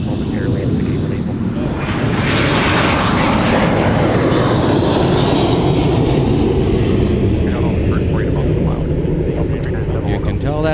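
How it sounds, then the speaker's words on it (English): A Bombardier CRJ-900 regional jet takes off at Minneapolis–St. Paul airport, a loud, sustained broadband engine roar that fills the whole clip with steady intensity, while radio chatter runs faintly underneath. "You can tell that's a 900 taken off by how loud it is."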